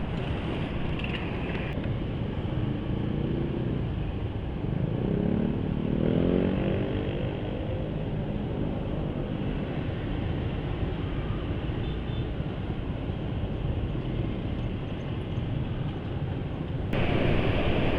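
A motorcycle engine idling and running slightly rough at low RPM after an oil change to Kyoso 20W50 Special Engine oil, a steady close, continuous drone throughout with no talking.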